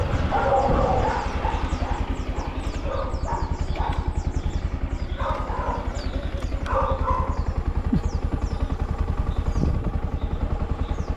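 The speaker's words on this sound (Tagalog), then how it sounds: "Palapit naman yung aso." Dog barking and yipping as it comes closer, repeated barks over a steady motorcycle engine drone during a ride, with faint voices in the background.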